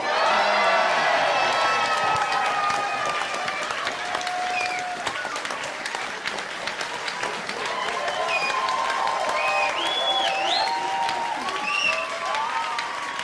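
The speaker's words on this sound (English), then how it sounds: "Let me hear you scream." Crowd at a youth politics event on stage, screaming and cheering with sustained applause, whoops and high shouts rising over a roar of clapping that fills the room for over ten seconds, with voices mixed in.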